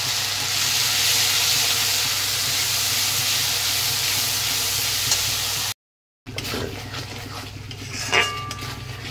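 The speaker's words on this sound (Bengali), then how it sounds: "ভালো করে মশলাটাকে আবারও কষিয়ে নিলাম" Spice paste for a cauliflower roast fries in a pan with garam masala, a dried chili and bay leaf, hissing steadily up close. A brief silence follows, then utensils clink and scrape against the pan.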